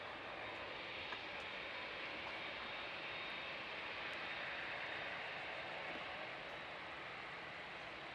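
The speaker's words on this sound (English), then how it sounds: "The TUI are on their way, taxiing across. 7879 Dreamliner they're in today." A TUI Boeing 787-9 Dreamliner taxis at Manchester Airport, bound for Punta Cana, with a steady, broad jet-engine roar that holds at an even level throughout.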